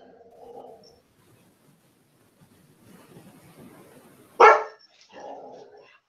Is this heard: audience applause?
no